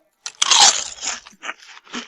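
Deep-fried zhuhuang bamboo fungus crunched in a single loud, close bite, followed by several shorter crackling chews that fade in bursts.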